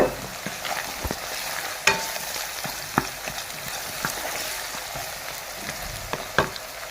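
Cashews, almonds, walnuts and peanuts fry in a pan while being stirred, giving a steady soft sizzle broken by sharp clicks of the spoon against the metal, fairly close and with no talking.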